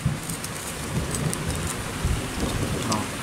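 Heavy rain pours steadily with a low rumble of thunder underneath, a constant dense hiss filling the whole time with no talking.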